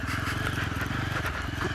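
A Yezdi Adventure motorcycle's engine thumps with a steady, rapid pulsing beat close by as the bike rides over a speed breaker.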